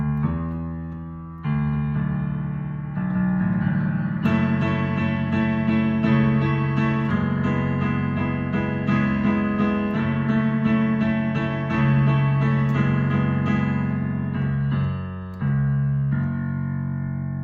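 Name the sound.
piano playing end of a song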